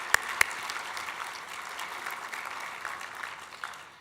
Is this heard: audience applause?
yes